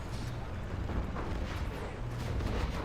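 Continuous barrage of carpet bombing and artillery fire in C&C Zero Hour, rolling explosions and thuds layered densely at high volume, with no voices.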